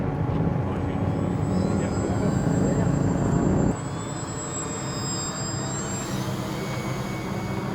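An FPV rocket plane flies overhead as a continuous airy engine roar with a thin high whine, loud at first and then dropping to a softer steady drone partway through, with voices nearby.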